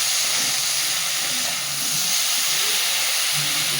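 Spices and sugar sizzle in a hot pan while a traditional Bengali banana-flower chorchori is cooked, giving a steady, close frying hiss that stays even throughout with no voices.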